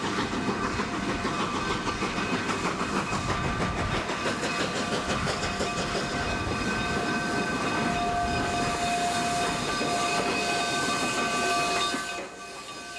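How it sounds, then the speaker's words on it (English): A scenic narrow-gauge train climbs steadily toward Cumbres Pass in Colorado, its chugging and rumble continuous and loud, with a sustained whistle tone rising in the middle before the noise drops away at the end. "Our train is steadily climbing."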